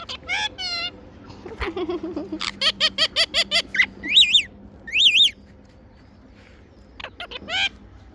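A rose-ringed parakeet sends out a rapid series of sharp chirps and rising whistles, then squawks, close and clear with short pauses between calls.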